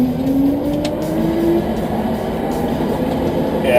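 A 2013 BMW M3 race car runs with a loud, continuous engine drone up close, a rising tone sweeping through as it revs, with no speech over it.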